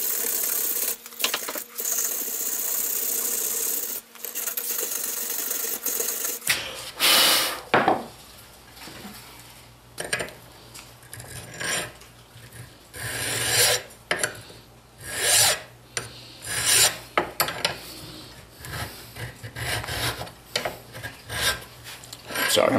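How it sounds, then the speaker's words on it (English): Rear brake disc on a Honda Accord being scrubbed to clean its pitted surface, a harsh rasping scrape in irregular strokes and bursts, close and fairly loud, with occasional metallic clinks. "So we'll give it some more scrubbing."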